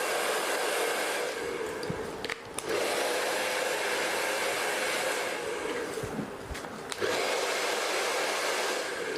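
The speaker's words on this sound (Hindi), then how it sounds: "तो मैं हल्का हल्का ड्राई करूँगा।" A hair dryer blows steadily and loudly through most of the stretch while hair is lightly dried during a low-bun styling session, with a few brief dips and knocks as the dryer is moved around.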